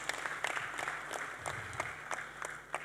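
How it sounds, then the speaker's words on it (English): Audience applause at a pension summit as panelists take their seats: a moderate, steady patter of many clapping hands heard from a distance, fairly faint and continuous throughout. "Let's give them a round of applause as they take their seats."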